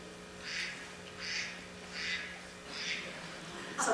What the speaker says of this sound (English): Somebody's phone is quacking.